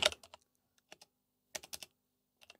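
A computer keyboard is typed on in quick, light clicks, grouped in a few short bursts with pauses between, close and quiet, as a plugin name is entered.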